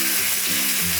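LA galbi beef ribs sear in a pan over high heat, producing a brief, loud, dense sizzle close by.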